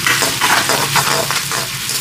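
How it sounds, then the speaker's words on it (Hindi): Green chillies and ginger crackle loudly in hot oil for aloo gobi, a close, dense sizzle with the scrape of stirring running through it and no one talking. "आधा मिनट मिर्चों को फ्राई कर लिया"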